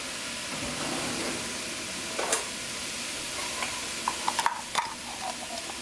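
Tomato paste being stirred into a vegan wild rice pilau in a pot: a soft, steady scraping over a faint sizzle, with a few sharper clicks and knocks of the spoon toward the end.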